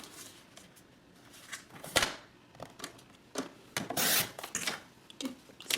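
Paper being trimmed for a gift card folio, with scraping slides and crisp cutting swipes at irregular intervals, close up and moderately loud, one longer rasping pass standing out, and no talking.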